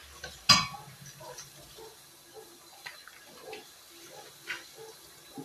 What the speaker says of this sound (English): And now we're just going to mix it up.